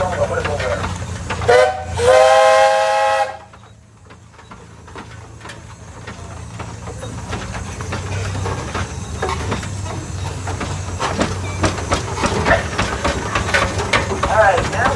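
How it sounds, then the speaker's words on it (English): A steam traction engine whistle at a tractor show gives one short, shrill toot, loud and close, then fades into a steady rumble of idling machinery and crowd murmur. "How about a little toot on the whistle there?"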